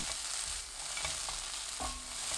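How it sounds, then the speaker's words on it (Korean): Sliced potatoes stir-fry in a pan over medium heat, a steady close sizzle with soft scraping stirs and occasional light knocks. "골고루 섞이면 중불로 켜서 4분에서 5분 볶습니다"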